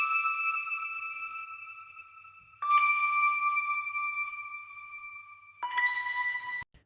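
Bright layered synth keys shifted up an octave, sounding as sustained chime-like tones in three separate held chords, clean and fairly loud with no voices.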